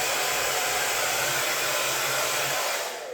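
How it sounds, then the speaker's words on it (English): A handheld blow dryer runs steadily while drying peacock blue acrylic paint on a canvas, giving a loud, continuous airy roar close up that fades slightly as it switches off at the end. "In between the layers, I used my blow dryer to dry the paint,"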